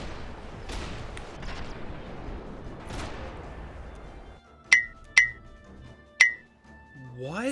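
Gunshots in the video game Max Payne 3: three sharp, loud cracks with a bright metallic ring, spaced unevenly, following a stretch of dense rumbling game noise and ending with a rising tone.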